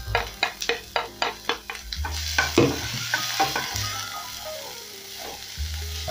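Onions sauté in a little cooking oil in a hot pan. Several sharp knocks of a utensil against the pan come first, then a fuller sizzle with stirring scrapes and clinks; no one speaks.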